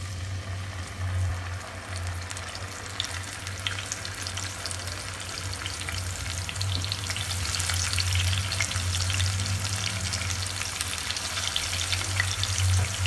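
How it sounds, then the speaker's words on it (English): Marinated fish fries in a teaspoon of melted ghee in a hot pan, giving a steady, close crackling sizzle with faint stirring and a low hum underneath. "Let them fry for a while."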